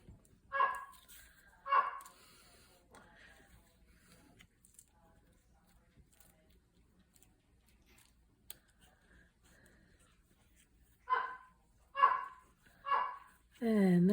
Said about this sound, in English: That's my dog, as usual.